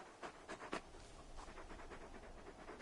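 Torgal, the large wolfhound companion in Final Fantasy XVI, panting softly in short quick breaths, faint and close, with no other sounds around.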